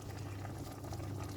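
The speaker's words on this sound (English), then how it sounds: "it's boiling nicely now" A pot of carrots and other vegetables boiling in water on the stove, a steady low bubbling churn that stays even and close throughout the short stretch.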